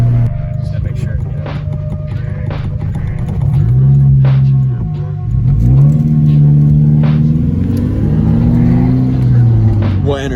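A car with a manual gearbox revs while driving, its low engine drone rising and falling through gear changes, loud and close throughout, with people talking over it.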